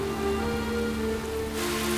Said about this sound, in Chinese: 今天这场大雨